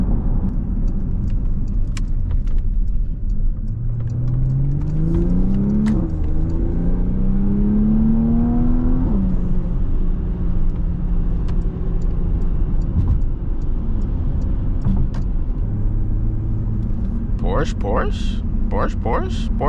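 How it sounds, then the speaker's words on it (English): A 2024 Porsche Panamera 4S engine drones and rises in pitch as the car accelerates, then settles into a steady cruise hum, with people talking inside the cabin throughout. "we're in the Porsche Panamera, the 4S"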